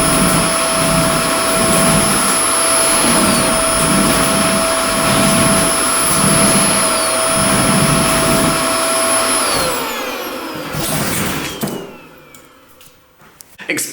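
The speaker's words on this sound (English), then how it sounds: "that vacuum was not actually running, just the sound effect." A vacuum cleaner sound effect, not a running vacuum, drones loudly and steadily with a high whine, then winds down and cuts off near the end, leaving near silence.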